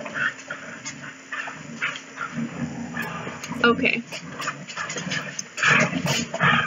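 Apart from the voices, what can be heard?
puppies barking and yelling at each other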